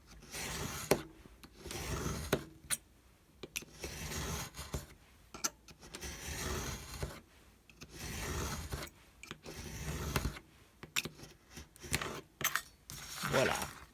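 Scissors or a blade cut packing paper for a tab-bound journal in a quiet craft setting, making soft, intermittent rubbing and snipping strokes spread through the clip, close but faint.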